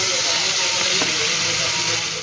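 Fish pieces frying in hot oil in a home kitchen give a steady, close sizzling hiss that runs unbroken and alone throughout.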